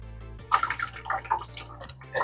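Water runs and splashes from the clean-water outlet of a filtration system in intermittent trickling bursts, close and fairly quiet over a low steady hum.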